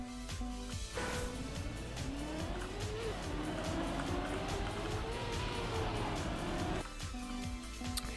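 A race car in Trackmania 2020 as its wheels dig in, with a sustained engine drone and a rising, sliding tire squeal over the middle stretch, bracketed by steadier engine tone at the start and end.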